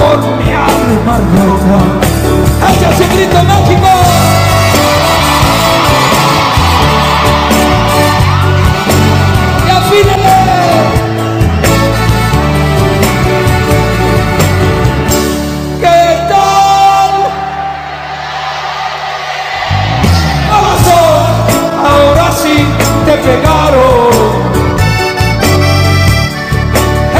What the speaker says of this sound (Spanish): ¡Echa ese grito mágico!